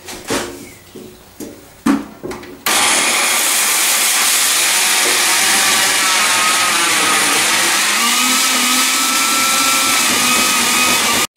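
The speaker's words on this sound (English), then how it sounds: "I'm going to chuck it in the blender because I can." A loud, steady motor roar starts abruptly after a few seconds of light clatter and handling, then runs continuously at high power without stopping.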